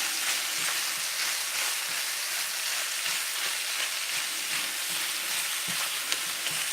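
Italian sausage fries in a pan, giving a dense, steady sizzle and crackle up close with occasional stirring scrapes and no voices.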